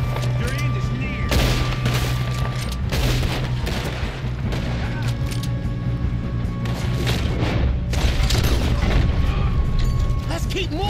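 Heavy gunfire and booming shots fill a Red Dead Redemption shootout, loud and near with rapid repeated bursts and mechanical clatter, while players shout over the action.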